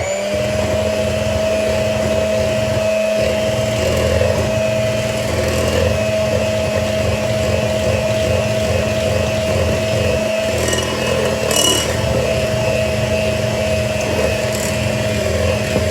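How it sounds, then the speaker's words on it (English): An electric hand mixer blends chocolate cupcake batter in a bowl, a steady close motor whine with a constant pitch that runs without pause and with no talking. "then we're going to use the hand mixer to finish this part up, blending it all together really well"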